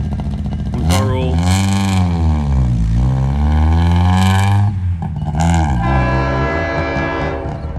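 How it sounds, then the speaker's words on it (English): A loud car passes close by at a railroad crossing, its engine droning and rising and falling in pitch throughout. "Ooh, that car was loud."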